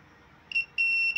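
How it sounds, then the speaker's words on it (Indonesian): A multimeter in continuity mode tests the contacts of a 24 VDC electronic relay, giving a short high beep and then a longer steady tone. Both are close and clear over a quiet background. "kita bisa mengukur melalui multimeter pada posisi buzzer"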